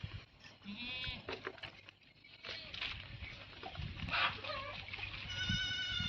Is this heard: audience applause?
no